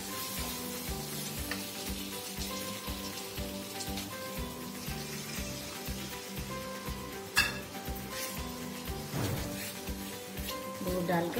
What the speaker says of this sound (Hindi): दूध डालकर अच्छी तरह इसे मिक्स कर दूंगी